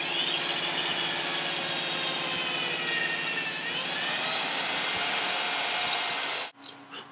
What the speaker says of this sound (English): First we have to drill here.